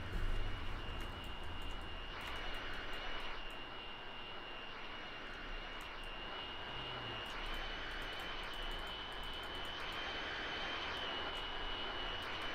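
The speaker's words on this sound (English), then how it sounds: "Can I hear an aeroplane?" A propeller aeroplane passes overhead in the OMSI 2 bus simulator, a steady, moderately loud engine drone that holds for over twelve seconds above a low rumble from the driven bus.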